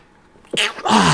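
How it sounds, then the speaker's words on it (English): A single close sneeze, a short sharp inhale and burst followed by a brief trailing exhale. "Sorry about that sneeze."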